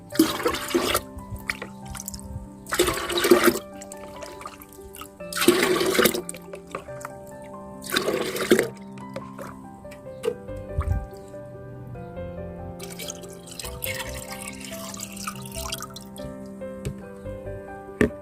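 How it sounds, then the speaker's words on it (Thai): Rice-rinse water being poured into a garden watering can and mixed with plain water, heard as several separate bursts of splashing pour, close by, between stretches of soft dripping and sloshing, with no talking. "ผสมกับน้ำเปล่าในบัวรดน้ำ"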